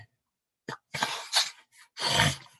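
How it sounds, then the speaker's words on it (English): A person makes a few short breathy catches and then sneezes forcefully twice, close by, with brief silences between the bursts. "I feel like sneezing."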